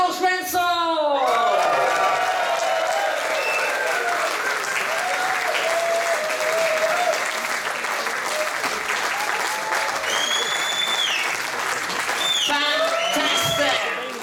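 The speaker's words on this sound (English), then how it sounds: "please welcome with a round of applause, Mr. Klaus Renzel!" An audience breaks into sustained applause for a musical clown's entrance, dense clapping and cheering filling the room, with a voice calling out briefly at the start and again near the end.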